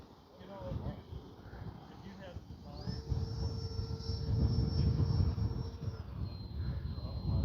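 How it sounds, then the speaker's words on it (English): A small RC model F-86 Sabre jet with a 64mm ducted fan: thin, high whine rises and holds, then shifts pitch, with wind buffeting and a person talking over it. "It's awfully windy to be flying such a little plane."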